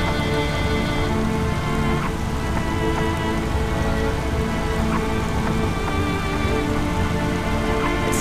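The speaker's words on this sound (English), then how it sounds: "it's rain in the background, so how can you forget the rain?" Steady rain falls in the background of a story-driven video game, a constant dense patter of drops on surfaces with no voices, unbroken and even throughout.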